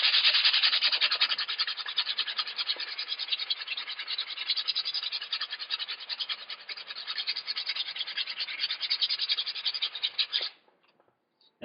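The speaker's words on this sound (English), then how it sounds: "So I've retrieved a piece of 40 grit sandpaper" Coarse 40 grit sandpaper rubbed back and forth over a rusty axe head, a loud, continuous rasping scrape up close that runs for about ten seconds and then stops abruptly, with no talking.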